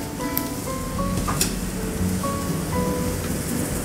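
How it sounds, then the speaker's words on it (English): Scallops marinated with a little oil pan-frying in a restaurant kitchen, giving a steady, dense sizzling hiss that holds evenly throughout with no talk. "Last minute, we pan fry our scallop."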